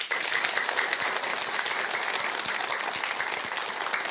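Applause from a Buddhist temple audience for the great monk, a dense, even patter of many hands clapping steadily at moderate level for the whole stretch, with no voices over it.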